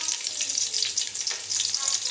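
Spices and aromatics sizzling in hot oil in a pan while cooking jackfruit biryani, a continuous bright crackling fry, close and steady, with no voices.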